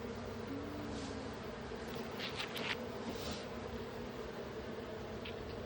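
Bees buzzing around an open beehive during a hive inspection with fresh brood, a steady insect drone with closer passes now and then, moderately loud and with no talking.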